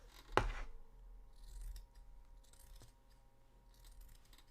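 A pair of scissors is set down on a table with a single sharp clatter near the start, followed by quiet room noise.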